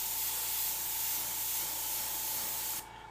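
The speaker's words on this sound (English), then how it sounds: "I might mist a little bit of the purple that I'm using in the main body on this" Airbrush spraying a fine mist of purple paint for tone-on-tone shading, a steady close hiss that holds evenly and then cuts off abruptly near the end.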